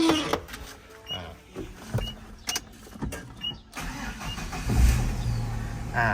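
A Tata CNG car with a fault that keeps it from accelerating starts up and runs, a loud, close engine rumble with uneven, swelling revs partway through and no talk.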